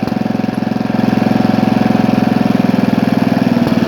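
A 1983 Briggs & Stratton 8 hp Sno-Gard winter engine idles at low throttle, a close, steady loud chugging with a fast even pulse throughout, no talking.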